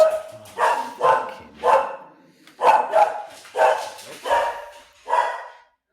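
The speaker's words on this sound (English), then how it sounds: "she has just been barking at nothing" A dog barks repeatedly indoors, about nine sharp barks in a steady, slightly uneven rhythm, fairly close and clear above faint room noise.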